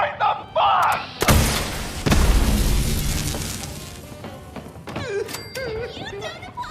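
Booming gunfire from the Fallout 76 video game: a sharp blast at the start, then dense rumbling bursts and impacts for a few seconds, fading into pitched game noises and short character vocal sounds near the end.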